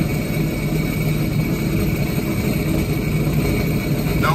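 A Sea-Doo Spark jet ski engine running at a steady idle, a loud, close, continuous droning hum with low rumble and no talking.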